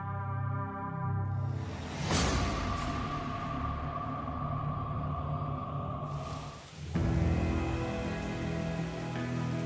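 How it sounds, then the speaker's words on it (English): Heavy rain falls steadily on a muddy hillside gold-mining site, a dense continuous hiss with an engine hum beneath and a brief dip before it resumes. "Heavy rain has slowed production on Paradise Hill all week, but Tony Beets is hoping"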